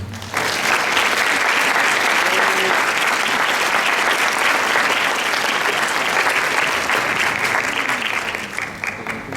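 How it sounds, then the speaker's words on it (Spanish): An audience at an education conference at a state teachers' college bursts into loud, sustained applause welcoming a speaker, dense clapping holding steady for about nine seconds before easing slightly at the end. "Pido un fuerte aplauso, por favor"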